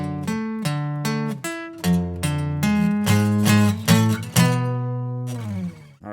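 Electric guitar works slowly through a turnaround riff, heavy distorted notes picked one by one with clear gaps between them, loud and close, ending on a ringing chord that fades out, with no speech.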